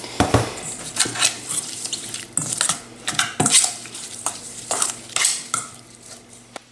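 A spoon stirs chermoula sauce with olive oil in a bowl, giving close repeated scraping and clinking strokes in an uneven rhythm, with no talk.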